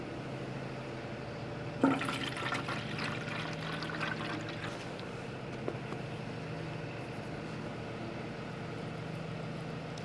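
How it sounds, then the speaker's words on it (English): Water pours and trickles steadily into a potted plant's soil until it runs out the bottom, with a brief clatter near the start and no talking. "just water it until it runs out the bottom"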